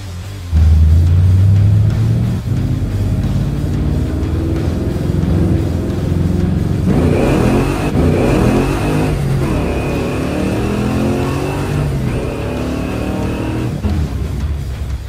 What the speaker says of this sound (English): The first time I went through the gears in the Nova, it was evident that the 572 is quite happy with the timing locked out